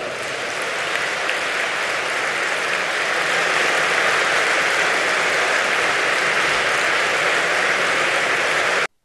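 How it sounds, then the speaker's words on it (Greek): Dense, sustained applause from a large crowd at a New Democracy party congress in Greece fills the hall after a speech by former Prime Minister Antonis Samaras, staying steady and loud throughout before cutting off abruptly. "Μέσα σε χειροκροτήματα"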